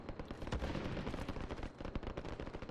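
Rapid, dense gunfire fills a video game match, with overlapping bursts of shots aimed at players, loud and continuous with no clear pause.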